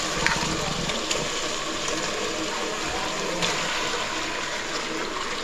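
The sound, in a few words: water being poured into the chicken pot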